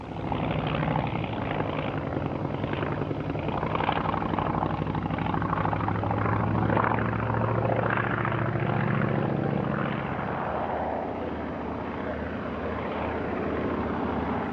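Polikarpov Po-2 wood-and-fabric biplane passing overhead at an airshow, its propeller engine droning loudly and steadily for the whole stretch before easing slightly toward the end.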